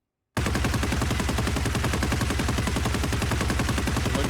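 Sustained automatic fire from a light machine gun in a first-person shooter game, a steady rapid burst of loud, evenly spaced shots running continuously after a brief silent start.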